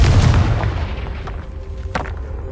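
A Confringo spell explosion in Hogwarts Legacy, a loud booming blast with heavy low rumble that quickly decays into a fading tail and faint debris-like crackles.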